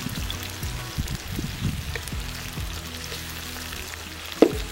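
Onions fry in a pan in a village kitchen, a continuous close sizzle with soft bubbling and a brief sharper clatter near the end, over low background hum.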